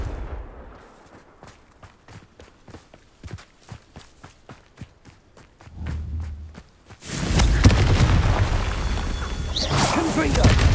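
Repeated Confringo fire-spell blasts in Hogwarts Legacy, a run of sharp, evenly spaced thuds followed by a low rumble and then a loud, sustained burst of fiery noise near the end.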